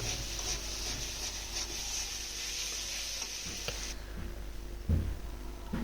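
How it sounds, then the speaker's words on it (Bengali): Potatoes and carrots sizzle steadily in a frying pan while being stirred continuously, a constant close hiss that eases near the end, with a soft knock of the utensil against the pan. "যতক্ষণ পর্যন্ত না আলু আর গাজরগুলো সেদ্ধ হয়ে যায় আমি অনবরত নেড়ে ছেড়ে দেবো নিচ দিয়ে যাতে পুড়ে না যায়"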